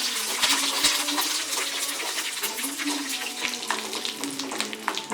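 Mustard seeds and dried chillies spluttering in hot oil for a Tirunelveli-style kootanchoru: dense, continuous crackle and sizzle with scattered sharper pops, close and steady.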